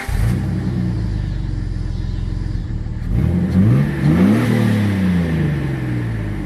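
A 2005 Jeep Wrangler TJ with a 4-liter engine and MBRP exhaust idles with a steady low rumble, then revs up and down in a few rising and falling sweeps, close and loud.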